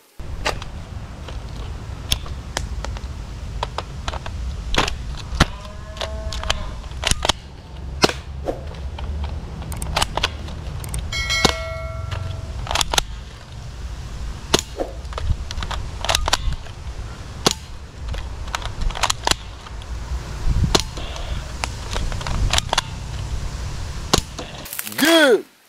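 Nerf toy machine gun firing in bursts of sharp, close clicks and snaps, some in rapid runs, over a low background rumble, with only brief, sparse voice sounds.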